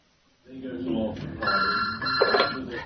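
A telephone rings at close range with a bright, repeated electronic trill, mixed with voices speaking over and around it.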